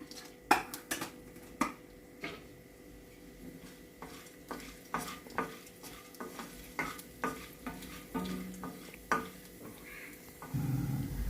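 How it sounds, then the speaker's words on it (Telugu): Two teaspoons of chana dal frying in hot oil, stirred with a metal spoon: a steady stream of sharp scrapes and taps against the pan over a soft sizzle that grows louder near the end, close up. "ఇప్పుడు ఇదే ఆయిల్లో 2 టీ స్పూన్ల శనగపప్పు వేస్తున్నానండి. దీన్ని కొంచెం వేయించుకుందాం"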